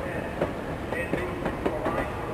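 A train in Richard Scarry's Busytown game rolls along with a steady rumble, marked by evenly spaced clickety-clack wheel beats that repeat in a loose rhythm.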